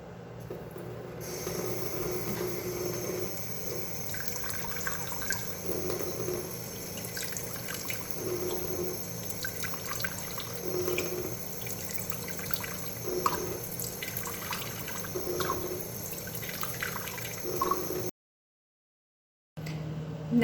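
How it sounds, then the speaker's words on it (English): Water runs steadily for about eighteen seconds with a tap-like hiss and faint drips, filling a medium glass container with water for a strawberry DNA extraction, then it stops briefly near the end. No talking. "fill a medium container with 6 tablespoons of water, preferably glass"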